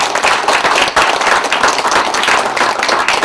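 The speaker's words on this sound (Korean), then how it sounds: "이 두 분에게 박수 한번 보내주세요." An audience at a Korean public ceremony claps together, loud and dense, a sustained burst of many hands with slightly uneven pulses and no voices over it.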